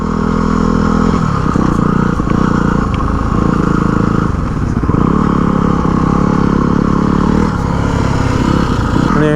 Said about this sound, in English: Hear that pipe.